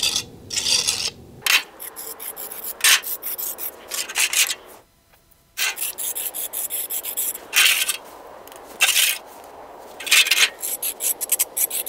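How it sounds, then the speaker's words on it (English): A trowel skims a concrete patch over a crack in a sidewalk, making loud, repeated rasping scrapes in short bursts. There is one brief silent pause partway through, and no one talks. "So I'm just going to skim it over with my trowel."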